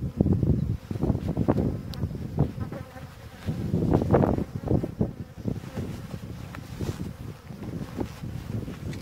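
Honeybees swarm around an open beehive outdoors during hive care, their dense buzzing rising and falling steadily throughout, with gusts of wind noise against the microphone.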